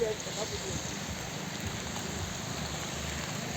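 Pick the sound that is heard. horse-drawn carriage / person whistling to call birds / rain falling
rain falling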